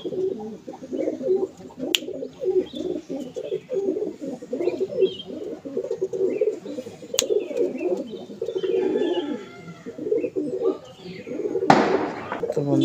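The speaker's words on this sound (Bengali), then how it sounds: "এটি মাদি পায়রা এবং এটি নর পায়রা।" A pair of pigeons, a male and a female, coo repeatedly and at close range in a continuous run of soft, throaty calls, with occasional sharp clicks and a voice in the background.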